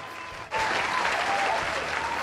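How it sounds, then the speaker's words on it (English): A sudden burst of crowd cheering and applause starts about halfway in and stays loud and dense to the end, with whistle-like tones riding on top. "What's everyone cheering about?"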